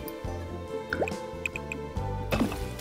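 Water drips and splashes from a fountain water emitter in The Sims 4, a close run of liquid plops and trickling drops over a steady watery background.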